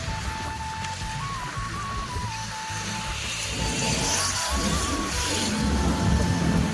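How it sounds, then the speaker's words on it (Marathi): Strong wind gusts roar across an open outdoor spot, a steady broadband rush that swells louder in the second half, with a faint tonal whine running through it. "वारं सुटले आबाळ पण आले"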